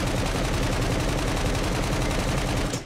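Dense, continuous automatic gunfire from a weapon in the open-world survival video game SCUM, a loud unbroken burst of rapid shots that fills the whole stretch before cutting off at the end.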